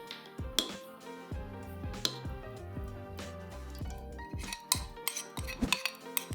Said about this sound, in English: Gochujang is a bit difficult to dilute, so that's why I like to mix it like this before adding it to the broth.